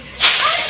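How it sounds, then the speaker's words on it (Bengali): Spinach dropped into hot oil left from frying puti fish, a brief sudden hiss that swells quickly and holds as a close, bright sizzle. "মাছ ভাজা তেলের পরে আমি এখন পালং শাক ছেড়ে দেবো।"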